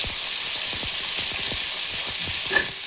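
Shallots, garlic and cut drumsticks sautéing in a pan for Tirunelveli sodhi kuzhambu give a steady close sizzle with scattered crackles and a few light stirring scrapes, no talking.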